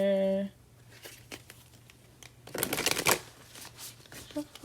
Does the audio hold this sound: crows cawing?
no